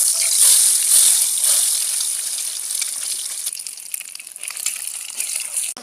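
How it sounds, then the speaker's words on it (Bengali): Eggs coated in salt and turmeric frying in leftover fried-onion oil, crackling and sizzling loudly at first, then settling into a softer, uneven spatter. "বন্ধুরা, বেরেস্তার ওই তেলে ডিম ভেজে নেব।"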